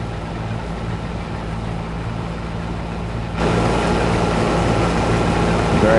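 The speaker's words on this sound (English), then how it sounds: "Very noisy combine this." A John Deere combine harvester in Farming Simulator 22 with a V8 engine drones as a steady low rumble, then jumps abruptly louder and rougher partway through and holds that heavier roar to the end.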